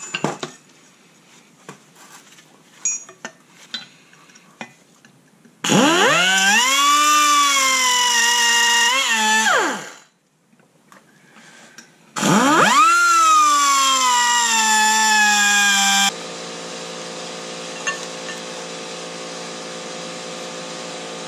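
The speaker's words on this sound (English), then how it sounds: "we're gonna go ahead and start cutting on this bearing and see if we can get to split" Power tool cutting into a Jeep JK rear axle bearing, two loud screaming bursts of grinding with pitch sagging under load, separated by a pause, then a steadier lower hum; quiet clanks before the first cut.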